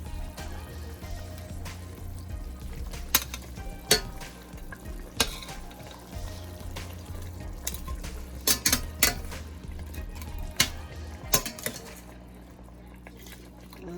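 Fish frying in a pot for brown stew fish, a low sizzle under repeated clinks and scrapes of a utensil against the pot, close and fairly quiet, with the sizzle fading near the end.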